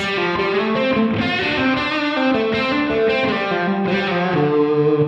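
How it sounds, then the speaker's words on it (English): A distorted electric guitar through a Line 6 Helix room reverb plays sustained chords that smear into a thick wash of reverb, the note attacks softened and blurred. "It gets buried in reverb right away."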